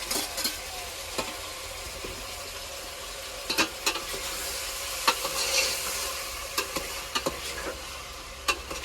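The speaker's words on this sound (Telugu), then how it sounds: "సొరకాయ ముక్కలు అయితే మంచిగా ఫ్రై అయిపోయాయి" Bottle gourd pieces frying and being stirred in a pan, a steady close sizzle broken by repeated sharp scrapes and clinks of a spoon against the metal.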